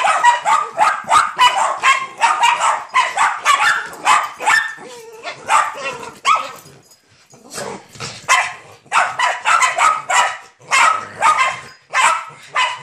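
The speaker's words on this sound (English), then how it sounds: "What are you barking at, huh? What are you barking at?" Dog barking in loud, rapid bursts of repeated barks, close by, continuing for several seconds with a brief pause near the middle before resuming.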